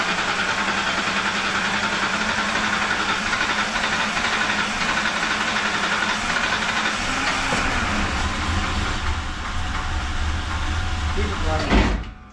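A Ford Ranger's swapped-in 4.0 V6 runs steadily at a loud, continuous idle close by, with voices talking over it, then cuts off abruptly near the end.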